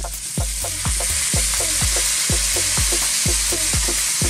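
Cane vinegar is poured into a pan of sweet and sour chicken, Filipino style, and a constant loud sizzle and hiss rise from the hot pan. A steady rhythmic beat of background music plays beneath it, and no one speaks.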